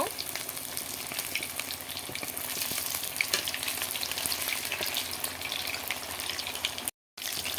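Pieces of chicken fry in hot oil with a dense, continuous crackling sizzle, close and fairly loud, with a brief dropout near the end.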